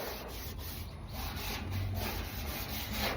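Scuffing acid-touched car paint with a Scotch-Brite pad, a steady close abrasive rubbing with soft repeated strokes, continuous and moderately quiet with no talking.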